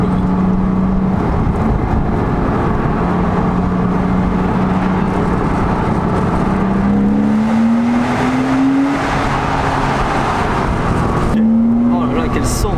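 A Porsche engine drones loudly from inside the car while driving, its pitch holding steady and then climbing in a few sweeping rises as it accelerates, with a voice talking over it.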